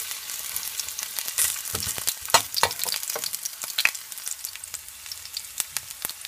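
Ginger frying in oil in a pan for beef and broccoli, giving a steady close sizzle with crackling pops and a few sharper spatters, no voices.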